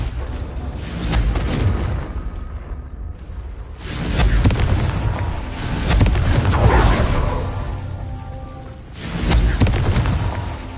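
Repeated Confringo blasting spells in Hogwarts Legacy, four heavy booming explosions spaced a couple of seconds apart, each a loud swelling rumble that trails off before the next hits.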